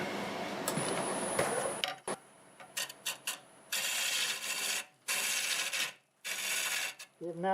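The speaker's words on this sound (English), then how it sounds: "I'm going to take this small hollowing tool just until I get that cleaned out" A small hollowing tool cuts cherry burl on a wood lathe, giving bursts of rough scraping and rasping broken by short pauses and ticks, fairly close and without speech.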